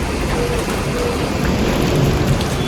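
Steady, heavy morning rain in Lonavala, Maharashtra pours down in a dense, continuous hiss with no voices, loud and close throughout.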